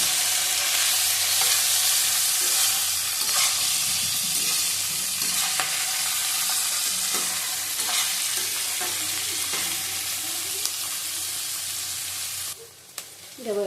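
A whole onion fries in a pan beside drumsticks and potato for a poppy-seed dish, giving a loud steady hiss of sizzling oil with light stirring scrapes, easing off briefly near the end.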